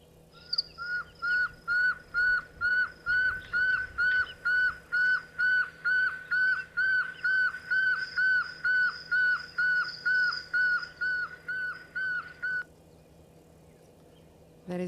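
A recorded bushveld owl call plays back as a long run of steady, evenly spaced whistled hoots, about twenty in a row and fairly loud, before it stops abruptly.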